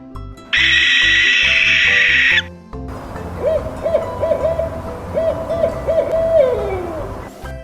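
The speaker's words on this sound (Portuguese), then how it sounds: "Coruja." An owl gives a run of several hoots, clear and close, in a quick repeating sequence that trails off at the end, after an unrelated steady tone.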